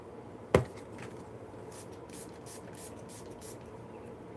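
Heat protectant spray aimed at hair: one short sharp spritz near the start, then a series of soft quick sprays and rustles, with a final burst at the end.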